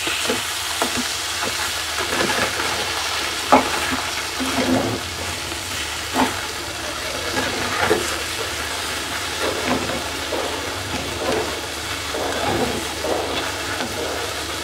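Shredded lote (Bombay duck) fish jhuri fries in a pan with a steady, continuous sizzle and crackle, broken by occasional spatula scrapes and stirring knocks throughout.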